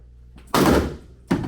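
A metal shower head swung hard strikes a bathtub refinished with an Ekopel 2K coating, a sharp loud impact thud followed by a second heavy hit about a second later, close up.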